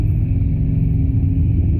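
A steady, loud low Harley-Davidson motorcycle engine rumble idles without change throughout, cutting off abruptly at the end.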